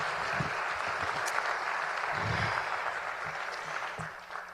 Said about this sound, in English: Everybody give a round of applause for the families and friends